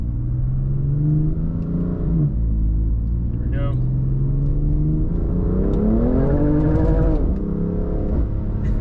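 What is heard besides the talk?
BMW car engine revving during full-throttle pull, Sport Plus mode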